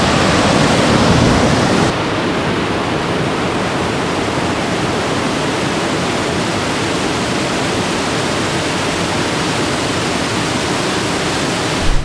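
A waterfall in Bosnia and Herzegovina roars as a dense, continuous wash of rushing water, loud and steady throughout with no voices.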